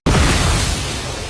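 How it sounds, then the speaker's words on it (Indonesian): A cannon-like device fires with one sudden, very loud blast that booms close by, then fades away in a rumbling tail over about a second. "sebuah alat yang mirip meriam menghamburkan Jipang dengan diikuti suara ledakan sangat keras"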